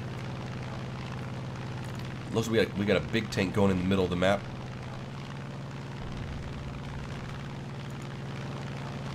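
A steady droning aircraft engine hum from a plane in War Thunder runs throughout, with someone talking over it briefly in the middle.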